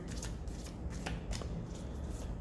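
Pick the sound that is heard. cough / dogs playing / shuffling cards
shuffling cards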